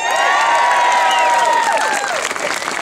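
A crowd at a rally to defend a monument bursts into loud applause and cheering, with whoops and raised voices over dense clapping that stays strong throughout.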